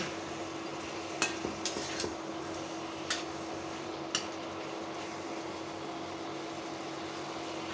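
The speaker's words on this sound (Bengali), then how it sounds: "দিয়ে দিচ্ছি আলু, আলু আর চিংড়ি মাছ ঢাকনা দিয়ে ঢেকে কিছুক্ষণ কষিয়ে নেব।" Potatoes and shrimp cook in a covered pan with a low, steady hiss of gentle frying, and a few faint clinks break through now and then; no one speaks.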